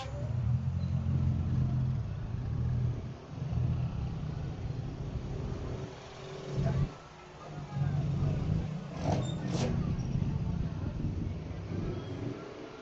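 Road traffic heard from inside a vehicle heading to the beach in slow, congested traffic: a steady low engine and road rumble with brief dips and a couple of faint higher squeaks, while people talk over it.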